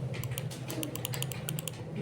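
Fast, steady clicking of keys on a computer keyboard during a LibreOffice Writer lesson, a dense run of sharp taps over a low background hum with no talk.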